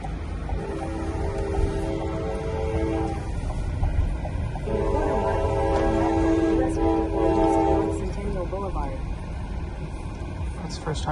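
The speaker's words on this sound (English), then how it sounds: "And the train moved back the other way." A train rolls through a road crossing in rural Nevada, heard from a waiting car: a steady rumble with long, sustained horn tones rising over it, moderately loud and continuous, with faint voices in the background.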